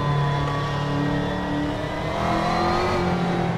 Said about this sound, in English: I'm going to go through this puddle on purpose